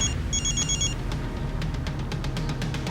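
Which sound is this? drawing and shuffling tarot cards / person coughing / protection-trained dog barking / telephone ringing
telephone ringing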